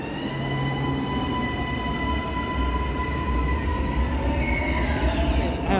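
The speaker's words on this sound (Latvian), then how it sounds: "Te ir Milānas metro." A Milan metro train runs steadily with a loud, continuous rumble, wheel noise and a rising squeal toward the end, heard close up from on board.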